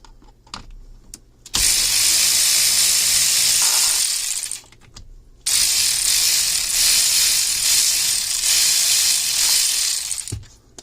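A power tool backing out a 10mm airbag bolt on a car steering wheel, loud whirring bursts of a few seconds each with short pauses and clicks between, close up.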